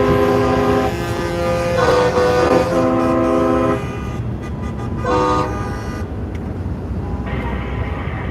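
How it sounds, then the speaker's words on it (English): Loud, sustained truck air horns blare in long chords, several overlapping blasts over steady traffic rumble on a highway convoy, then fading into road noise. "Can you guys hear the horns?"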